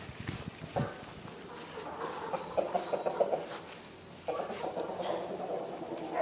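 Chickens cluck in a barn in a series of short, mid-pitched bursts, with rustling and clattering around them at moderate distance.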